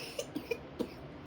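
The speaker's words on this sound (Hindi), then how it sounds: "खांसी लग गई है इसको" A young child coughing in a few soft, short bursts, four quiet coughs spaced unevenly in under a second, fairly close, no talking.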